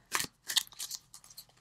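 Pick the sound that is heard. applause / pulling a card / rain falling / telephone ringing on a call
pulling a card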